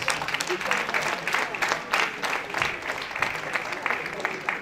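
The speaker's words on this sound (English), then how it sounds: "Let's give her a round of applause." Audience applause at a pharmacists' association award ceremony for an anti-drug abuse competition, a steady dense clapping from a crowd in a hall, continuous and fairly loud throughout.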